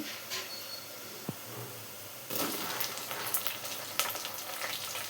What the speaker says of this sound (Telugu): ఇప్పుడు ఆ దోసకాయ టమాటా తీసుకొచ్చి ఇందులో వేసేద్దామండి